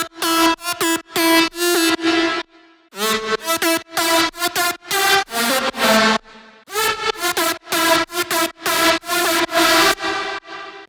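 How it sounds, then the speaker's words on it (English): A bright, buzzy synth lead built from heavily detuned saw waves plays a choppy rhythmic riff of short stabs and held notes, loud and up front, with brief gaps between phrases. "they use saw waves that are heavily detuned"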